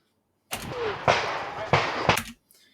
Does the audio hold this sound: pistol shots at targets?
yes